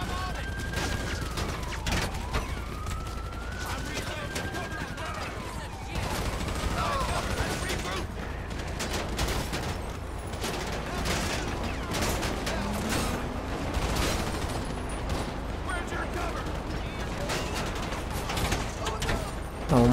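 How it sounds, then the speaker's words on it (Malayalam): Heavy gunfire in a shooting video game: dense bursts of automatic fire and rapid shots from several weapons run throughout, loud and near, with players talking over the action. "അവന്മാരെ കട്ട വെടിവെക്കലാണ്"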